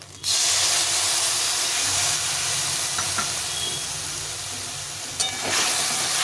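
Spices with salt and turmeric sizzle loudly as they are fried in a pan for a fish curry with raw banana and potato, giving a steady close hiss with a couple of brief clinks of stirring.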